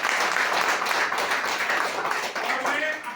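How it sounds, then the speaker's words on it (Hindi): An audience at a motivational talk gives loud, dense applause, continuous clapping that fills the whole moment close up. "सो इनके लिए जोरदार ताली।"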